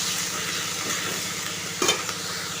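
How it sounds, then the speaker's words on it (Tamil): Chili powder, turmeric and salt being sautéed in a home kitchen pan, a constant close sizzle with stirring scrapes and a brief louder clatter near the end, no talking. "மிளகாய் தூள் மஞ்சள் தூள் உப்பு சேர்த்துருக்கேன் இப்போ நல்லா வதக்கிட்டு"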